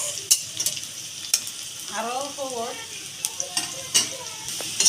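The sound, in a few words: onions and green chilies frying in a little oil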